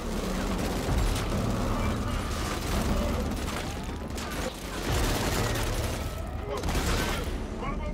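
Enemy gunfire in Killzone Shadow Fall, a steady battle din of repeated rifle shots and impacts with occasional heavier thuds, continuous and fairly close throughout.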